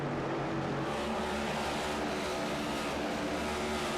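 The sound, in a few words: race car engine, from racing video game iRacing at Milwaukee Mile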